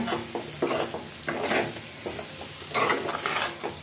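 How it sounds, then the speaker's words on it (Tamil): Boiled potatoes being stirred into a bell pepper masala in a pan, a masala meant for chapati and poori. Close scraping and stirring with a soft sizzle and occasional clinks of a utensil against the pan, with no talking. "அதையும் போட்டுக்கலாம். போட்டு ஒன்றா கலந்து விட்டுக்கலாம்."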